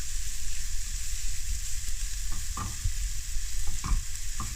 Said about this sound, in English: you're going to start to see some brown spots on our bacon